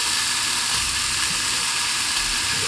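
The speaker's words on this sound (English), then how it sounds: "you're gonna cook about 6 or 7 strips of bacon" Six or seven bacon strips sizzle in a heated pan for a breakfast burrito, a loud, constant hissing crackle that never lets up.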